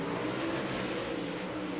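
A late model race car engine roars steadily on the throttle during a feature race at I-55, a continuous, fairly faint drone heard alone.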